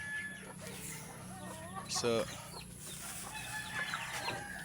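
Backyard chickens cluck and squawk close by, with one louder burst of cackling partway through, while a person talks over them.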